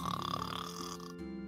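A voice imitates a snoring character during a tabletop role-playing game, a short rasping, gurgling snort-like sound heard close and alone.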